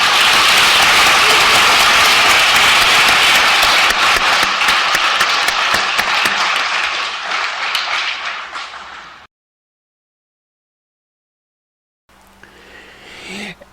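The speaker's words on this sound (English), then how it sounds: "please let's give them another round of applause" Audience applause fills a higher-education and job-skills event honoring student and industry speakers, loud and dense for about nine seconds, then fading to silence before a voice resumes.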